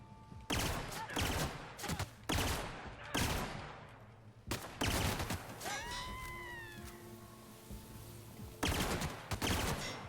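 Gunfire from a weapon in the video game Outer Worlds that fires in quick triple-shot bursts: several loud, sharp volleys repeat close up, with brief electronic game tones ringing between them.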